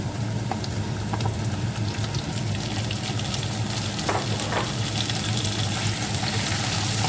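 Plantain sautés in a pan for a Jaffna-style curry, a dense, even sizzle with occasional light clicks of stirring, no voices.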